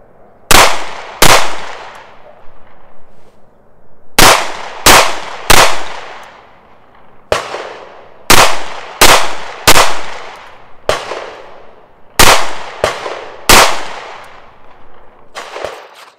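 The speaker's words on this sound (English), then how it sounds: "I've got the pistol loaded back up. Again, 1 round in the chamber, 9 rounds in the magazine." Llama Max-1 .38 Super pistol fired outdoors across two full magazines, sharp loud single shots in quick clusters with brief pauses between, each crack followed by a short decaying echo, no talk.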